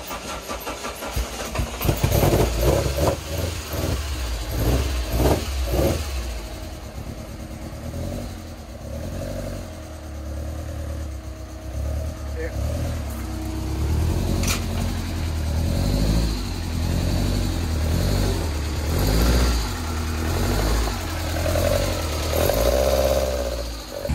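Homemade LoCost kit car with a Vauxhall red top engine starting and revving, a rough mechanical idle broken by repeated loud throttle blips and surging revs, close and unaccompanied by talk.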